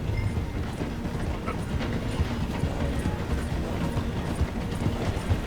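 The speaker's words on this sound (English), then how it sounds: "The train is slowing down to go through the station." Train slowing as it rolls through a station in Red Dead Redemption 2, a steady dense rumble and clatter of wheels and carriages, close and continuous without voices.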